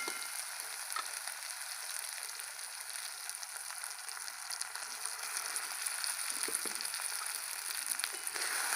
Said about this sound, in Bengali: এবার ভেজে রাখা ডিমগুলো দিয়ে দেবো।